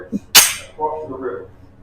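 A single sharp gunshot from a SAR USA pistol cracks out close and loud. Brief faint sounds follow just after it.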